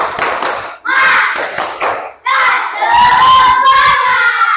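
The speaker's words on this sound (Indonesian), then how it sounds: "sekarang kita tepuk semangat dulu" A sixth-grade class of Indonesian children doing a rhythmic spirit clap in an elementary school lesson, loud bursts of clapping and shouting voices in quick patterned groups, crowd-like and close.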